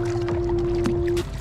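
A steady jet ski engine drone hums nearby at a constant pitch on a lake, fading slightly near the end.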